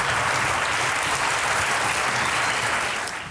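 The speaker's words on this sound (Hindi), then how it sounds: "तालियां बजती रहनी चाहिए।" A studio audience at a Pakistani TV talk show claps to welcome a guest, a dense and loud sustained round of applause that fades slightly at the end.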